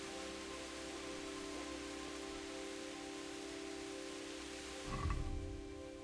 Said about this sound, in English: Oh, is it raining?